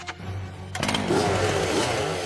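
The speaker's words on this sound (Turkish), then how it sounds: "Flint Lockwood elektrikli testereli çamaşır makinesi. Atıyorum, kapatıyorum. Çekiyorum, çekiyorum, çekiyorum" A buzzing motor revs up and runs steadily and loudly, a rough chainsaw-like whine that keeps going without pause after a few sharp clicks.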